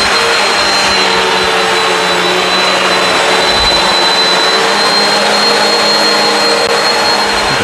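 A Bissell CleanView Swivel Pet vacuum cleaner runs on carpet with a loud, steady high-pitched motor whine and airflow roar, continuous and close, with no speech.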